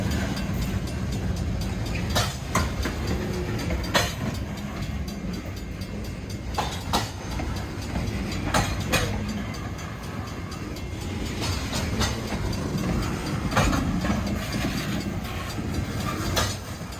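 A freight train rolls past on the RJ Corman line near the former Loup Creek subdivision, a continuous heavy rumble with repeated sharp wheel clicks over rail joints, loud and close for the whole stretch.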